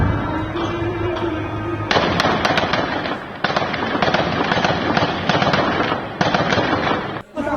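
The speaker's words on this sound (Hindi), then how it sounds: "किस तरह से ये आतंकी हथियारों से लैस लगातार फायरिंग कर रहे हैं" Sustained gunfire from armed militants during a violent clash with the IDF in Tubas, West Bank, dense rapid crackling bursts over several seconds with sharp cracks throughout, fairly loud and distant-sounding, with a brief pause near the end.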